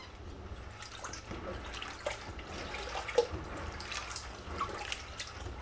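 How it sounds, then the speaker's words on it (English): Quiet water trickling and dripping in a sink as beans are rinsed and drained during canning preparation, faint splashes with a low background hum. "We're going to rinse that water out, drain it."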